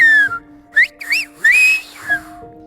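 Silbo, the whistled language of Gran Canaria, carries a short message as a series of sharp, gliding whistles that rise and fall in distinct bursts, clear and fairly close, with a faint steady tone underneath.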